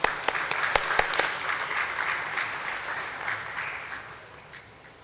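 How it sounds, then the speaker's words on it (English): Steady applause from a crowd at a stock exchange listing ceremony, dense clapping that holds loud and then slowly tapers off toward the end. "Let's give a huge round of applause for him"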